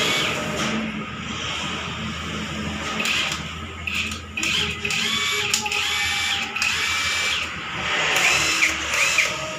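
Cheap impact wrench running in bursts, a whirring, rattling hammer sound of moderate loudness close by with mechanical clatter.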